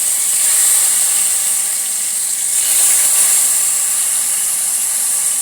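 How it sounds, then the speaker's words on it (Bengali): Potato slices rubbed with turmeric and salt fry in hot oil, giving off a loud, steady sizzling hiss that holds without a break. No one speaks. "আমি এবার এগুলোকে তেলের মধ্যে ভেজে নিচ্ছি।"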